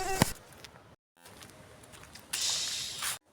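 Insects buzzing in the open air, faint and intermittent whines that swell louder near the end, with brief gaps of near silence between them.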